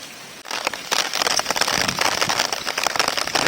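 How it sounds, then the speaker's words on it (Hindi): Heavy rain in Lahore, with cold wind, pelting a nearby surface after a brief quiet start, turning into a loud, crackling rush of close, irregular drop impacts. "मैंने देखा बहुत ज़्यादा बारिश हो रही है।"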